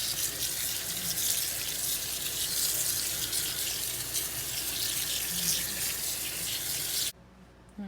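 Tap water runs steadily and loudly into a sink to wet fabric before dyeing it with Rit dye, a continuous close splashing gush that stops abruptly near the end.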